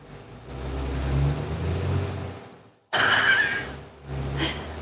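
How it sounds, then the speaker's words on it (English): A heavy construction truck engine rumbles and revs going up a hill, dropping out briefly before surging back loud and close, then settling into a lower idle. "That's a construction truck."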